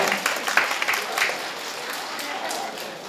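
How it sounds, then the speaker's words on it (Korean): An audience at a school Christmas service gives brief applause, a moderate patter of many hands clapping in a room, with a few louder claps early and a voice faintly underneath. "한 번 더 크게 박수로"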